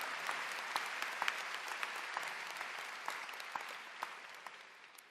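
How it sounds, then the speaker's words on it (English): A round of applause at a high school graduation ceremony in Mt. Juliet, a broad, fairly faint wash of many hands clapping with sharper individual claps, slowly tapering off. "Let's give Mr. Luttrell a big round of applause"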